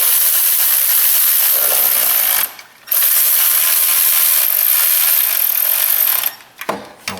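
Bolts being snugged up on a Jeep Liberty with a ratchet, a loud continuous run of close ratcheting clicks with a brief pause partway and a few knocks near the end.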